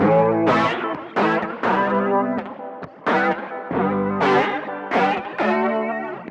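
Electric guitar played through the Fine Classics Pedalboard plugin on a chorus, delay and reverb preset, ringing out loud, sustained chords in a slow rhythmic phrase with lush shimmering trails and no voices over it.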